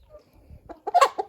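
A chicken clucks several times in quick, uneven bursts, close by, with quiet rustling before it, in a henhouse.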